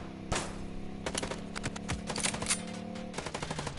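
Rapid bursts of machine gun fire from the video game Chicken Police, loud and close, with repeated volleys and sharp single shots across the whole stretch over a steady low background hum.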